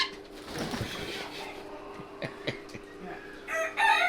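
Several rooster crows ring out on a farm, one nearby and others farther off, over a faint background hum with scattered clucking.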